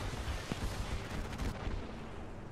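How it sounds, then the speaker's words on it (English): Muffled, booming gunfire rumbles in Apex Legends, dense and continuous with several heavier thuds standing out, heard as a low, distant-sounding barrage without talk. "They're shooting at me."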